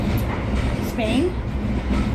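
A passenger train in Spain bound for Sarria rumbles steadily along the rails with a brief wheel squeal midway, while someone talks over the noise.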